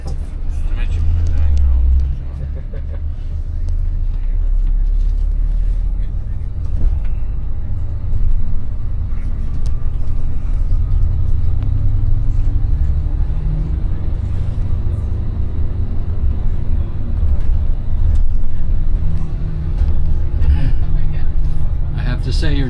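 Turkish Airlines tour bus driving through Istanbul, a steady low engine rumble and road noise throughout with a gently rising engine pitch, while people talk inside the cabin.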